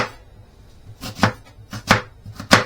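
A knife chops a peeled, halved onion on a board in a quick series of about four to five crisp, close taps with light background noise.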